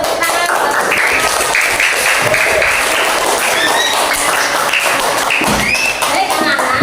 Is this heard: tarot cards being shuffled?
no